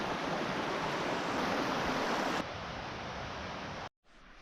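A mountain creek crossing on the Apostles Traverse trail in the Colorado 13ers gives a steady, full rush of flowing water, close and loud, which drops in level partway through before a brief cut.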